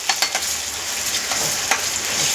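Ginger garlic paste sizzles in hot oil for a Coimbatore-style quail gravy, a steady bright frying hiss punctuated by a few sharp crackles and stirring scrapes, close and continuous.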